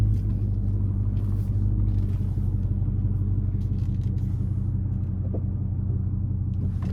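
A 2022 Dodge Charger Hellcat widebody drives along, its engine giving a steady, deep low rumble heard from inside the car, constant and fairly loud.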